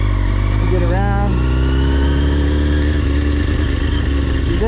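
A motorcycle creeps along slowly on the clutch friction zone during beginner practice, its steady low engine drone running throughout, with a voice briefly rising over it near the start.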